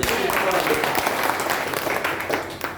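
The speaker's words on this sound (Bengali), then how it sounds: "জোরে একটা হাত তালি।" Sustained applause from an audience at an office programme, steady dense clapping filling the whole stretch without a break.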